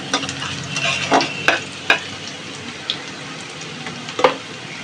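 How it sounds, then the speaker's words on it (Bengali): Onions fry in a pan, a soft continuous sizzle with a few scraping stirs and light clinks of the utensil against the pan, close and clear with no talking. "পেঁয়াজগুলো হালকা ভেজে নেব, শুধু কাঁচা গন্ধটা গেলেই হয়ে যাবে।"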